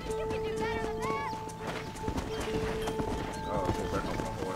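Horse hooves clip-clop steadily in Red Dead Redemption gameplay, with whinnies and neighs breaking through, while voices talk over the busy game soundscape.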